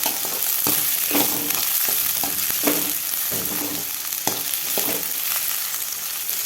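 Finely chopped shallots sautéing in a hot pan for a drumstick stir-fry, a continuous sizzle broken by repeated scraping strokes of a spatula, close and fairly loud with no talking.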